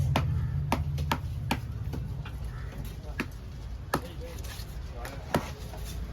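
Knife chopping through a huge red snapper at the Kasimedu fish market: a series of sharp, irregular chops and thuds sounds close, over steady market bustle and low background talk.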